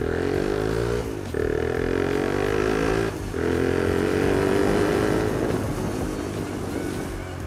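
A motorcycle engine heard from a front-mounted GoPro while riding, a loud continuous drone with wind noise and two brief dips where the throttle eases off.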